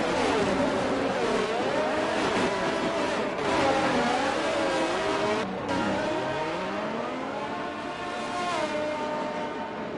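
Several F1 race cars from an F1 video game, lining up on the grid in Brazil, their engines revving and droning in many overlapping tones that rise and fall steadily at close range, with no talk over them.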